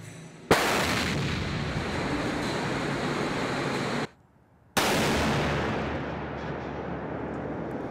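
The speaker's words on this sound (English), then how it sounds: "States Navy currently owns the most powerful railgun in the world" A US Navy railgun fires a projectile with two loud, sustained blasts, separated by a brief gap and each followed by a long rumbling decay.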